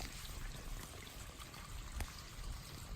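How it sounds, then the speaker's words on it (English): A water hose runs steadily, rinsing venison meat outdoors, a faint continuous hiss and trickle of flowing water with small splashes. "this stage is rinsing the meat. I rinse it."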